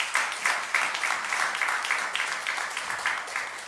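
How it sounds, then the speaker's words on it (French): A church congregation applauds during a service, a moderate, fairly quiet patter of clapping with some individual claps standing out in an uneven rhythm. "Donnons à nos bien-aimés de nouveaux applaudissements."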